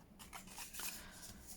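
Scissors snip through paper packaging in a few quick cuts, close and fairly quiet, with faint rustling between strokes.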